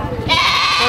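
A goat bleats loudly and close by at a livestock market, one sustained wavering cry that rises out of the crowd murmur.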